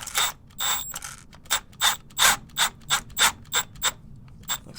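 A ratchet clicks in quick bursts while tightening the charge pipe clamps on a Ford Mustang EcoBoost S550, about a dozen short, close ratcheting strokes in a steady rhythm.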